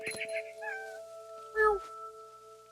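A cat in the video game What Remains of Edith Finch gives a few short, clear meows with brief soft noises between them. No talk is heard.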